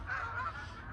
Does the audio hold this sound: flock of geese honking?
yes